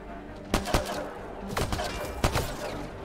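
Gunfire in Mass Effect Andromeda comes as sharp, loud shots, some in quick pairs, spaced across a few seconds over a steady backdrop of game noise.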